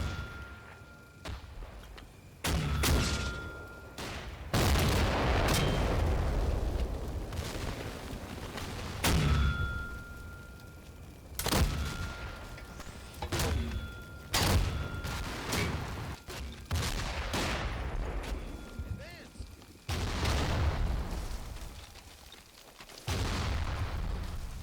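Artillery barrage on Italian positions in the video game Combat Mission: Fortress Italy, a long run of heavy booming impacts and gunfire bursts, some close and loud, others distant, with brief lulls between salvos.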